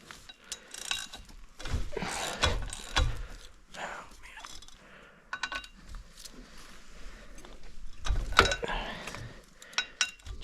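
A ratchet works 1/2 inch bolts loose on a 3.0 Mercruiser boat motor during water pump removal, with close bursts of rapid clicking and clinking separated by short pauses.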